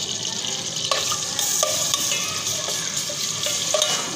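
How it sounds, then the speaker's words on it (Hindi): Garlic-ginger paste fries in hot oil with a continuous close sizzle and a few faint scraping stirs, with no talking. "ये 1 चम्मच मैंने ये लहसुन अदरक का पेस्ट ये डाल रही हूँ। इसको थोड़ा सा मैं भून लूँगी।"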